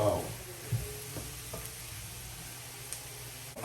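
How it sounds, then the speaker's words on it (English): Mushrooms sauté in a pan with a soft, steady sizzle, faint and continuous, punctuated by a few light stirring clicks. "I'm gonna saute my mushroom for about 6 minutes"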